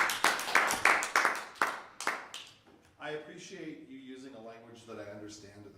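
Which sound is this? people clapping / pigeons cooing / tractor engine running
people clapping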